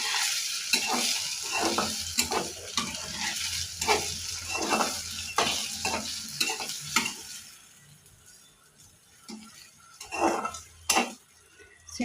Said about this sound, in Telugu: ఆయిల్ కాగిన తర్వాత ఈ మసాలా పెట్టుకున్న వంకాయలు వేసేసుకోవాలి. ఇవి ఒకసారి బాగా కలుపుకోవాలి.